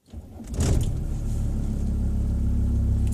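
A Volvo 850 TDi's 2.5-litre five-cylinder Volkswagen turbo diesel engine cranks and catches, then settles into a deep, steady rumbling idle close by.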